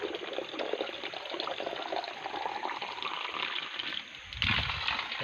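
Water flowing steadily on a mountainside, a dense, continuous rushing gush heard close and alone, with a brief deeper splash near the end.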